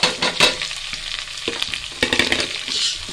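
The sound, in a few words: sliced onions frying in oil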